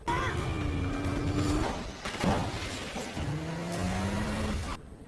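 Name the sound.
car chase with police cars in film Lost Bullet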